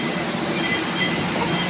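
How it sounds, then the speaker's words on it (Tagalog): An MRT metro train in Makati rumbles steadily nearby as it arrives, a dense metallic roar with faint high squeals from the rails, continuous throughout with no voices. "Yung MRT, sasakay na kami."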